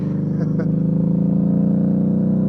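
A Harley-Davidson V-Rod motorcycle engine drones steadily and loudly while riding, a low throbbing hum that holds constant throughout with no break.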